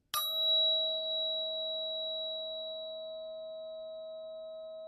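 A solfeggio tuning fork tuned to 639 Hz is struck once and rings with a pure, steady tone that sustains and slowly fades over several seconds, alone and close.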